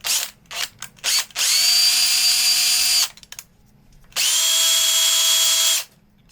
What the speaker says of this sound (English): So I just grind it off to make sure this DC input area has enough space